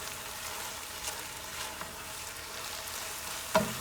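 A sandwich cooks on a griddle with a faint, even hiss of frying, steady and close, with a single soft knock near the end and no voices.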